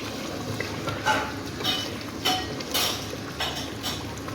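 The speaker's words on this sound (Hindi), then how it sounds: "हम अंडों की भुनाई करेंगे इस मसाले में हल्के हाथ से" Eggs being gently stirred and fried in masala in a pan for an egg curry, with soft scraping and clinking of a utensil against the pan at irregular intervals over a faint sizzle.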